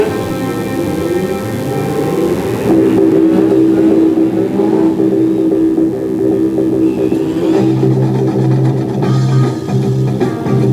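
Brisca F2 stock cars race at the Cowdenbeath Racewall oval, loud engines revving and droning continuously as the cars slide round, with shifting pitch and clattering under the roar.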